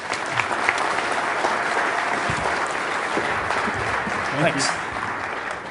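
A conference audience applauds to welcome a speaker to the stage for a software design keynote, steady sustained clapping from a large crowd, with a brief word of thanks spoken near the end.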